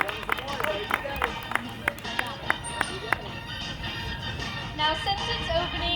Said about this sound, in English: Let's give a huge round of applause to our new trainers.